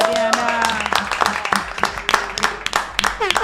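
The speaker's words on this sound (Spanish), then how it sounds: "Adriana, este aplauso es para vos" An audience at a Gelatina talk-show taping claps for guest Adriana Serquis, a close, busy spatter of hand claps running throughout while a voice keeps talking over it.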